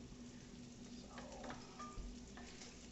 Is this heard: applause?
no